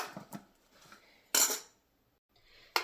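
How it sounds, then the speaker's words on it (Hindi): A metal spoon stirs marinated mushrooms with spices in a bowl, giving a few light scrapes and soft clinks, then two sharp, brief clatters separated by a short silence. "अब एक स्पून की हेल्प से इन सबको अच्छे से मिक्स कर देते हैं ताकि इन पे मसालों की कोटिंग आ जाए।"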